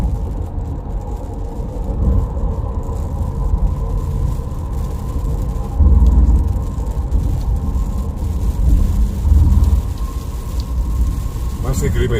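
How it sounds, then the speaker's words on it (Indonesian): Steady light drizzle patters over a continuous rumble of traffic on the Cikampek-Palimanan toll road in Indonesia, with passing vehicles swelling briefly; no voices. "Sekarang mulai turun hujan gerimis"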